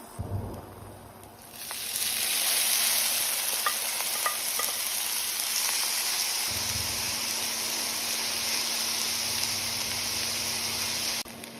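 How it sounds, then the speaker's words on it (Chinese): Noodles pan-fry in a little oil, bursting into a loud, continuous close sizzle after a quiet start, with a low hum underneath and a brief lull at the very end; no speech. "只是让它稍微煎一下、定一下型"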